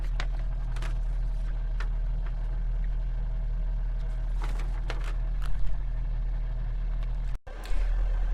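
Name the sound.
12V rooftop air conditioner running in turbo mode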